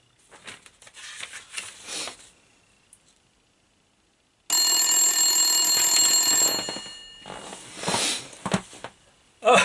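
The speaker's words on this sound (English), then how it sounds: "So a lot of times I received phone calls, just like this one." A telephone rings loudly and continuously for about two seconds after a short stretch of silence, with a few scattered clicks and noises before and after the ring.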